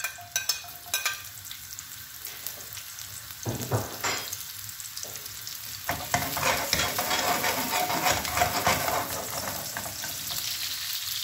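Onion, garlic and chili pepper sizzle in lightly heated oil for fusilli alla Calabrese, with a steady close frying hiss, occasional stirring clicks and a few sharper crackles as the pan heats up.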